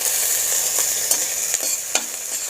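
Grated ginger and green chillies stir-fry in oil for radish greens, a steady close sizzle broken by a few quick spatula scrapes, with no voices.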